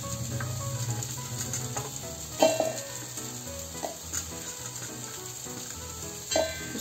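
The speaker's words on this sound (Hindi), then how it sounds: "अब इसको मसाले तैयार कर लेंगे पहले हम इसको लहसुन की कली डालेंगे" Garlic cloves dropped into hot oil crackle and sizzle steadily at close range, with a couple of louder utensil knocks and clinks mid-way; no voices.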